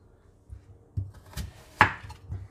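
A large onion is chopped into quarters with a knife on a board, giving a handful of quiet, separate thuds spaced unevenly, one sharper cut standing out.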